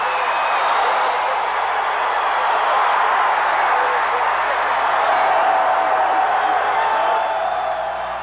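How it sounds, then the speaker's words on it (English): A football stadium crowd at the 1987 Liberty Bowl, Georgia Bulldogs against Arkansas Razorbacks, roars continuously and loudly for a touchdown, a dense wall of cheering and whooping that holds at full volume throughout. "With the crowd still delirious, Thomas spun over the goal line"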